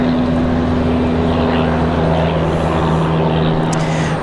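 A Copa Airlines airliner at Raleigh-Durham airport, its engines giving a loud, steady drone with tonal hum, heard close and continuous.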